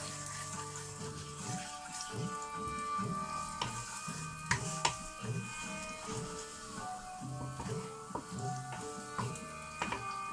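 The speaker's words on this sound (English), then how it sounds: "Just going to gently fry off the garlic." Garlic gently fries in a pan, a soft, steady sizzle with faint crackles running continuously, alongside quiet background music tones and no talking.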